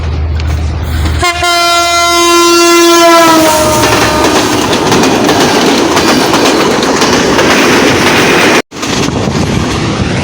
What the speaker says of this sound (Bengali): বাংলাদেশের সবচেয়ে দ্রুত গতির ট্রেন বেনাফুল এক্সপ্রেস চলে আসছে